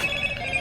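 A phone rings briefly during a gaming commentary session, a steady electronic tone standing alone for a moment with no talk over it.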